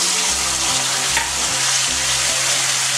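Cumin paste frying in hot oil for a koi fish curry with cauliflower, a loud dense continuous sizzle that stays even throughout, with a faint low rhythmic hum beneath.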